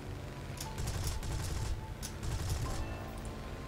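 Spitfire guns fire in War Thunder, a muffled continuous rattle of rapid gunfire under engine drone, fairly faint and unbroken through the few seconds.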